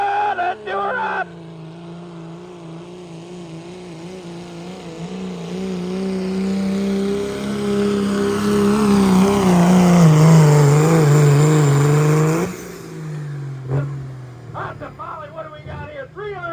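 A pulling truck's engine roars and revs hard at a truck and tractor pull, climbing and sustained for about ten seconds before dropping off, with an announcer talking over the run.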